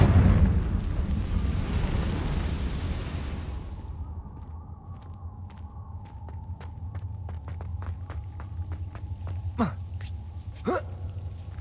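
The Confringo explosion spell in Hogwarts Legacy goes off with a loud, broad fiery blast that roars for several seconds and then fades, leaving a quiet hum with scattered small clicks and two sharp swishes.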